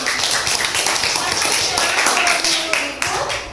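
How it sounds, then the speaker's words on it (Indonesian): A classroom of pupils in Indonesia gives a short round of clapping, loud and close, with children's voices chattering over the applause. "Tepuk tangan untuk Hijrah."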